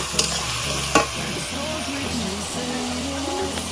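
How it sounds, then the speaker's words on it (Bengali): Onions sizzling steadily in a pan for mutton curry, with a continuous close frying hiss and a couple of sharp spoon knocks near the start. "ভালো করে পেঁয়াজগুলো বাদামি কালার করে ভেজে নেব।"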